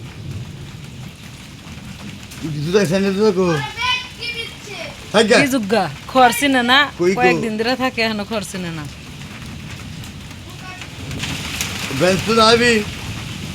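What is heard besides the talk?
rain falling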